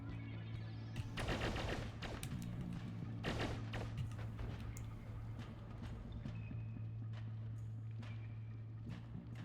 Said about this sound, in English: there's a lot of random explosions in this one